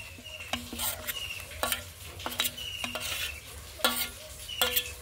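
A ground paste of ginger, cumin and dried chili goes into a pot of mutton curry, followed by repeated sharp clinks of a spoon against the pot, a soft sizzle and stirring in a close, even rhythm, with no talk.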